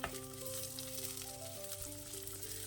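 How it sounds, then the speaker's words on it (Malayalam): Thinly sliced small shallots, twelve to fifteen of them, sautéed in a pan for prawn curry, giving a steady bright sizzle throughout with a faint background hum and no talking. "ഇനി ഉള്ളി ഒന്ന് വഴറ്റിയെടുക്കാം"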